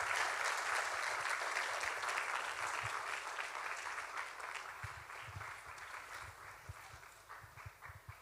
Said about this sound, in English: Let's keep clapping, everyone.